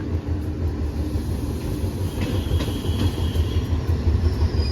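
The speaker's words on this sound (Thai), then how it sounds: "มาแล้วครับผมขบวนที่ 208รถจักรเป็น GEA 4558 นะครับผมทำขบวนมา" Special steam-excursion train 208, hauled by GEA 4558 locomotive, rumbling loudly into a station on the Bangkok–Ayutthaya line, a heavy continuous roar of wheels and engine with faint clacking and no talk.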